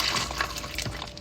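Coffee poured for iced coffee, a steady close liquid splash and trickle running unbroken for about a second, alone without talk.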